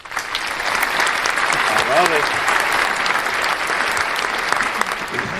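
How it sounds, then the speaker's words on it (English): Loud, close applause fills a live podcast recording, a steady dense clatter of clapping lasting throughout, with a brief spoken exclamation and some cheering voices mixed in. "Applause for the people, Jonah."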